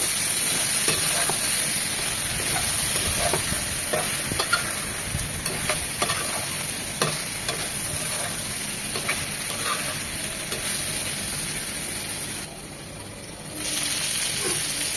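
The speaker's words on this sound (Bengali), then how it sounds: "2 থেকে 3 মিনিট বেগুনটা মশলার সাথে কষিয়ে নেব।" Eggplant is stir-fried with spices in a pan, giving a steady sizzle broken by repeated scraping stirs. The sound quiets briefly near the end, and no one speaks.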